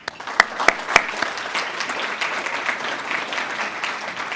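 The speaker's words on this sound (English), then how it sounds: "Round of applause for all of them." An audience at a chamber of commerce small business awards ceremony breaks into a round of applause, opening with a few sharp, loud claps before settling into dense, steady clapping from many hands.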